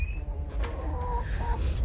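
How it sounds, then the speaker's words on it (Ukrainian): Chickens and a rooster cluck and murmur nearby, with short bird calls over a low background rumble. "Так, це півень."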